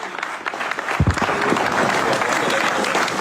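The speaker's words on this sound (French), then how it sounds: "lorsque la foule l'applaudit, lui et ses hommes" A crowd applauds a fire brigade commander and his firefighters, steady dense clapping rising after a sharp thump and continuing at even loudness, with faint voices mixed in.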